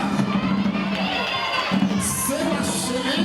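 A concert crowd at a live competition performance cheers and shouts, with children's voices in the mix, loud and continuous throughout, joined by bursts of higher whoops toward the end.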